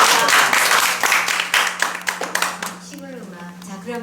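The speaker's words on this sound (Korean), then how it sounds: "박수 부탁드립니다." Audience applause at a Korean storytelling and recitation gathering: dense, fairly loud clapping for a couple of seconds that thins out as a speaking voice takes over.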